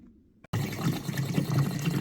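Water pouring into a container inside a van, starting abruptly after a brief quiet moment and then gurgling and splashing steadily at close range.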